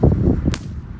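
A single sharp crack from a roman candle firework shot, loud and close, following a low rumbling rush and then fading quickly.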